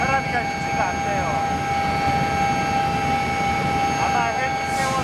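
Steady rotor and turbine drone of a medical air ambulance helicopter flying to an accident scene, heard loud and continuous from on board with voices talking over it.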